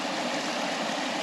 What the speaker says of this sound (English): I just came across this stream